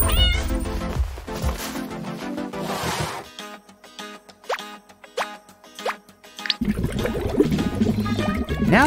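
A cat meows several times in short bursts while playing with a fish-catching toy, mixed with splashy plopping noises and some electronic tones and music in between.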